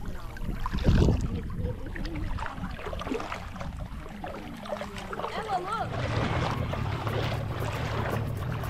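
A boat towing kids on an inflatable, moving on water with engine drone and sloshing, wind rushing past, and people talking over it.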